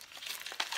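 Decorative gift wrapping paper with washi tape crinkles and rustles in short close bursts as a swap package is opened.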